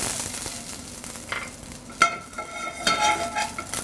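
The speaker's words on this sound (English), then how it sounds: "I'm gonna start with some extra virgin olive oil inside the saucepan. I'm gonna start with some garlic." Garlic sizzling in extra virgin olive oil in a saucepan, a steady close frying hiss with occasional stirring scrapes and clinks, no voices.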